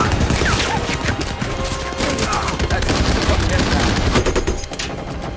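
Dense, loud gunfire from tanks and guns in a wartime battle against Nazi forces, a continuous fusillade of rapid shots layered over a heavy rumble.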